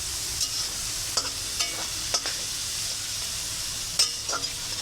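A pan sizzles steadily while a spatula stirs and scrapes through the food in a few distinct strokes, close by.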